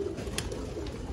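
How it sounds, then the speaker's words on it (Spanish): Frillback pigeons, curly-feathered birds, give soft low cooing in a steady murmur, close by and fairly quiet, with no talk over it. "ya ustedes hoy también conocieron lo que son las palomas rizadas"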